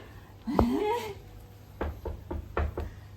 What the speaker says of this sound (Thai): เราเคาะกระจกนี้